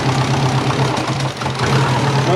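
The engine of a twin turbo Subaru Forester, with small leaks and some smoke, idles steadily close by. It gives a loud, continuous low rumble with a slight uneven pulse and no voices over it.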